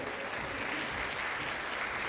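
An audience at a Lithuanian Olympic committee sports forum applauds a returning guest, a dense steady wash of clapping throughout.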